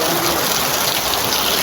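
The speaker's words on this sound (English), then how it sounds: "Guys, first heavy rain is coming." Heavy rain pours down in an African village, a dense, even hiss of falling water that is loud and close throughout, with no voices.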